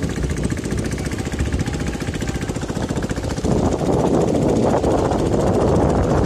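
A small motorized bangka runs on the Pampanga River at San Pedro San Simon, Pampanga, its outboard engine chugging in a steady, loud, close drone that rises in intensity partway through, with no talking.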